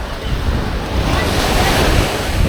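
Calm sea waves at Praia da Daniela beach wash in with a steady, broad surf roar, joined by wind buffeting the microphone throughout.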